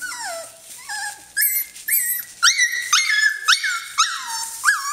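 A Norwegian Elkhound gives a run of high yips, short barks and whimpers in quick succession, close and fairly loud with no other sounds around.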